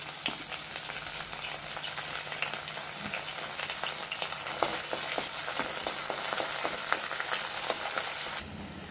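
Curry leaves and green chillies sizzling in hot oil for a Kerala sardine curry: a loud, close, continuous crackling fry with scattered sharp pops, steady throughout.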